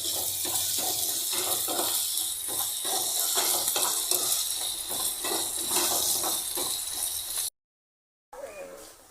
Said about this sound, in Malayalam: ഇനി ഇത് നന്നായി വഴകുന്നിടം വരെ നമ്മളതിനെ ഇളക്കി കൊടുത്തുകൊണ്ടിരിക്കണം